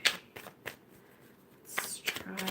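Tarot cards are shuffled by hand in quick bursts of riffling and slapping, soft and close, with a quiet pause between two rounds of shuffling.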